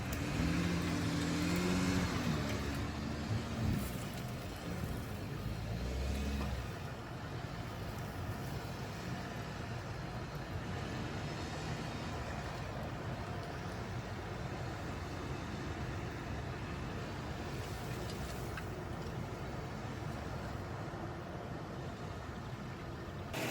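A Volkswagen Touareg crawls over dry off-road terrain in low range with its rear locker engaged, giving a steady, moderately loud engine drone with rough rumbling throughout and no voices.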